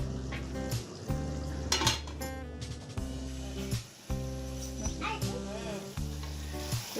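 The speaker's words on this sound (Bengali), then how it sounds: "এখন ঢাকনা লাগিয়ে কলিজাগুলোকে ভুনা করে নিচ্ছি" Beef liver bhuna fries in a covered pan, giving a steady, close sizzle with occasional stirring clinks beneath loud background music.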